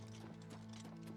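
Hoofbeats of a horse in Oblivion Remastered clip-clop steadily over a continuous low game-music drone, close and fairly even in rhythm, with no talking.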